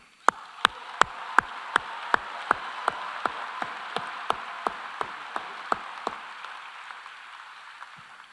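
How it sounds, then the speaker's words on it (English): Steady, evenly spaced hand claps, about two or three a second, ring out over a hushed room tone at a university commencement ceremony, then thin out and stop near the end. "how about another round of applause?"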